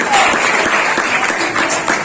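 Steady, fairly loud burst of audience clapping at a general knowledge quiz held in a high school, a dense broadband patter lasting about two seconds with faint voices mixed in.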